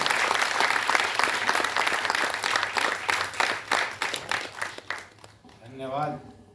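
Audience applause at a book launch held in a Hindi literary hall: dense, sustained clapping from a seated crowd that tapers off near the end, after which a voice begins speaking.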